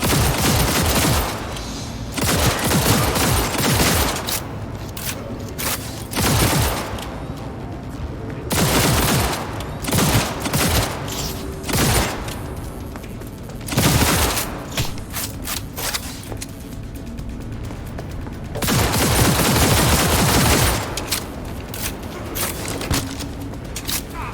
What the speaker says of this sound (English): Hostiles engaged! Opening fire!